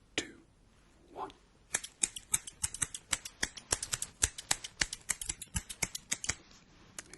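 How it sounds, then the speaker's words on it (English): Serrated hair-cutting scissors snip in a quick, crisp run of close metallic clicks after a couple of soft rustles, loud and near with no talking. "The hair cutting scissors or the hair cutting scissors with the serrated edge."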